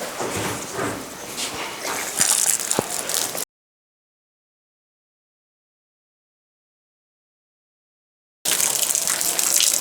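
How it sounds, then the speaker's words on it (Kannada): Water gushes and splashes onto wet sacking in a cattle shed for cooling an HF cow, stops abruptly into a long silence, then resumes. "ಅದ್ರ ಮೇಲೆ ನೀರು ಬಿಟ್ಬಿಡ್ತೀನಿ"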